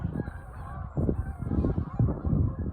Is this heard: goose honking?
yes